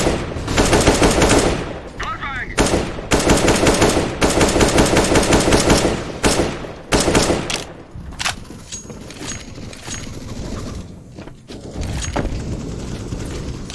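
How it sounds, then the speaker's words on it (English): Rapid automatic gunfire from the game Counter-Strike: Global Offensive, loud and close, in dense bursts with brief pauses and a few heavier booms, continuing through the whole stretch. "Laying down some fire."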